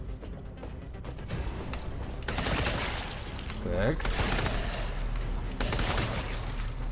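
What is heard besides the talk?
gunfire from a gun in the video game Redeemer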